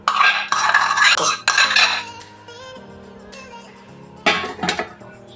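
Spoon scraping and clinking against a pan while spreading pav bhaji over a dosa, in bursts of metallic scrapes with quieter pauses between, close and fairly loud.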